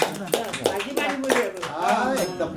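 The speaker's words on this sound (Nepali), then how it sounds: "ताली बजाउनु सबैले" A group of people claps in a quick, steady rhythm at a family Mother's Day gathering in Nepal, with talk and voices running over the applause.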